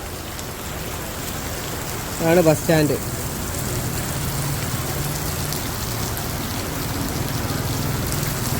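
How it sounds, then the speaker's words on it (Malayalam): Steady rain falls in Maharashtra during a trek day, a constant soft hiss throughout, with a short burst of speech early on. "ഇന്നും നല്ല മഴ കേട്ടോ, ഇന്നലെ രാത്രി തുടങ്ങിയതാണ്"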